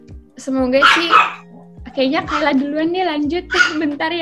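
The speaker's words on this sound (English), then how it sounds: "sorry my dog is barking." A pet dog barks in short yipping bursts at home, mixed in with close conversational talk that runs over most of the barking.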